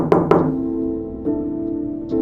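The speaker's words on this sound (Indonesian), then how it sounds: "Ketukan itu muncul lagi, pelan, tepat di bawah lantai kayu." Two sharp knocks from beneath a wooden floor ring out close together, then fade into a low humming resonance, with a few softer thuds following in a tense, quiet room.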